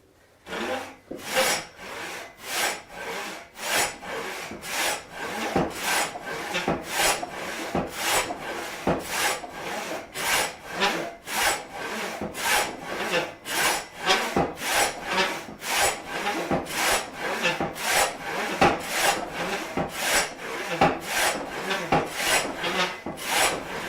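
A hand saw resaws a thick wooden beam in steady back-and-forth strokes, rhythmic and close, continuing without pause.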